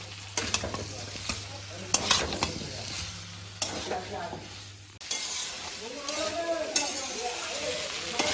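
Green jackfruit curry cooked mutton-style is stirred and fried in a pan, a steady sizzle under repeated scraping and clinking of a spoon against the metal, loud and close throughout with no talking.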